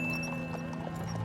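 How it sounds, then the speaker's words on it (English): Police horses clip-clopping in a steady run of hoof falls over a constant hum and background noise, with an occasional faint whinny. "Look, police horses."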